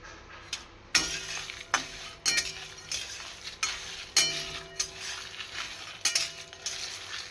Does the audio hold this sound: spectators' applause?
no